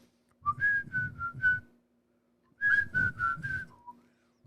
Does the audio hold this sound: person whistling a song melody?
yes